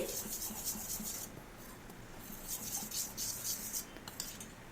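Fermented rice and lentil batter being mixed with a little salt and water, a soft continuous wet swishing and scraping in a bowl, close and faint, with no voices.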